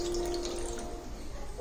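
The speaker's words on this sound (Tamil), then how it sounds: "தண்ணி ஊற்றி நான் கழுவி காமிக்கிறேன்" Water poured over hands during washing gives a brief, steady splashing rush, fairly faint, with no one talking.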